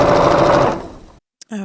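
A sewing machine stitching quilt blocks runs in a brief, fast, buzzing burst that slows and stops, followed by silence and a short snatch of speech.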